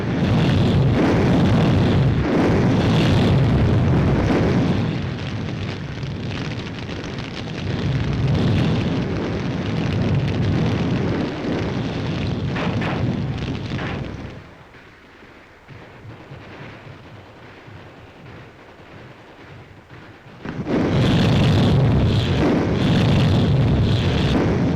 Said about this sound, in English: Heavy enemy fire is coming from those caves.